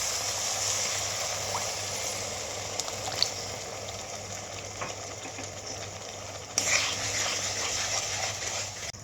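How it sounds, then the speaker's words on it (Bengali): Chilli paneer gravy bubbling in a pan after water has been added, with a steady low simmering hiss and soft bubbling that continues evenly with no talking. "গ্রেভিটা ফুটছে"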